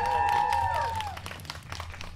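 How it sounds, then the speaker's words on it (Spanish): Live studio audience at Hub Escalante applauding during a comedy podcast taping; a burst of clapping rises after a voice and fades into a steady, moderate patter. "Gracias por ese aplauso tan fingido ya"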